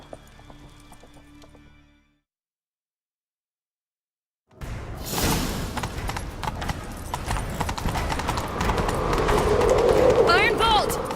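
Horses gallop with rapid, loud clip-clop hoofbeats during a chase in the video game The Witcher 3, starting after a brief silence and continuing steadily with whooshing movement and game sound effects around them.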